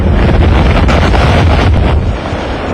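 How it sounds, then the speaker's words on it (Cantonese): Strong wind and heavy rain of tropical storm Hagupit roar steadily and close, a dense broadband rush with gusting buffeting against the microphone that eases slightly near the end; no voices are heard. "強風夾雜住大雨"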